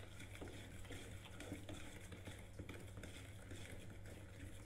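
Butter and sugar are stirred together in a bowl for Christmas spritz biscuits, giving faint, steady scraping and soft clinks of a utensil against the bowl under a low kitchen hum.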